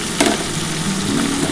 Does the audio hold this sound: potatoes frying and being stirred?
yes